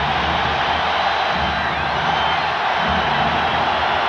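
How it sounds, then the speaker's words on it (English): Dense, steady roar of an NBA arena crowd at a 1990 Western Conference semifinal Game 7, loud and continuous throughout with broad wash of cheering and no clear individual voices. "Porter trying to urge the crowd on to be louder"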